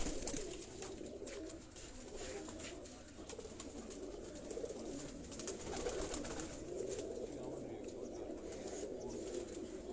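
Pigeons coo faintly on a rooftop loft in Sialkot amid dense background noise, with someone talking through much of it.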